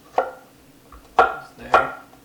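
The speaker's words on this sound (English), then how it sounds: "we're going to slice them up a little bit more so that garlic flavor" A kitchen knife slices garlic cloves on a cutting board, giving three distinct, well-spaced taps close by with no talking.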